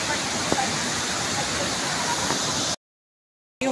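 Roaring water of Aliwagwag Falls in Cateel, Davao Oriental, a loud, steady broadband rush close by that cuts out abruptly near the end and then resumes.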